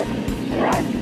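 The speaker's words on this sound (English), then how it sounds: "T-Rex hears it roaring and quickly reacts." A wooden 3D puzzle walking T-Rex toy lets out a short, loud electronic roar with a growly, distorted quality that fills the full second without pause.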